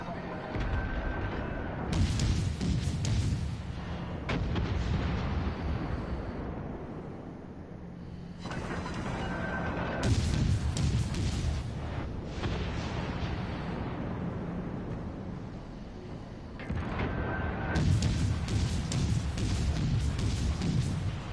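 Shells striking a warship in the naval video game World of Warships Legends: repeated heavy booming impacts arriving in several sustained bursts, fairly quiet in the mix, with no talking.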